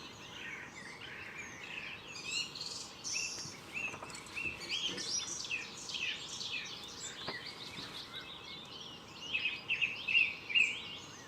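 Several birds chirp and tweet outdoors, overlapping bright calls that come in bursts and grow busier toward the end.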